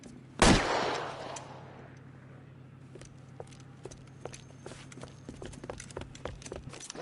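One loud gunshot cracks out and then decays, followed by a scatter of faint, distant shots and knocks over low background noise in the video game L.A. Noire.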